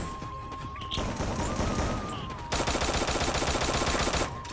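Rapid gunfire in the mobile shooting game Free Fire, a dense, steady stream of shots and bursts that grows heavier and more continuous partway through, with a thin electronic tone and game sounds underneath.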